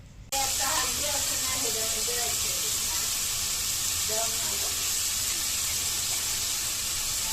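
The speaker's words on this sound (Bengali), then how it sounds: "মশলাটা ততক্ষণ পর্যন্ত কষাবো যতক্ষণ না পর্যন্ত তেলটা উপরে ভেসে আসে।" Spice paste for loitta shutki bhuna frying in oil, a steady loud hissing sizzle that starts abruptly and holds without pause, with faint talk underneath.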